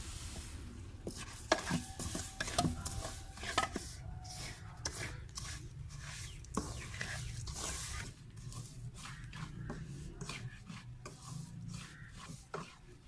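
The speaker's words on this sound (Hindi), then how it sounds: "सूजी को अच्छी तरह से भूनना है।" Semolina and sugar being stirred and roasted in ghee in a pan for homemade Sohan halwa, with a steady dry scraping and rasping of the spoon against the pan, repeated strokes at close range and no talking.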